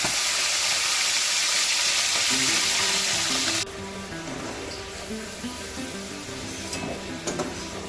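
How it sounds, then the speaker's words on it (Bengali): Loud, dense sizzling of shrimp frying in hot oil that drops abruptly partway through to a softer crackle with light clinks. "চিংড়ি মাছটা ভাজা করে তুলে নিয়ে"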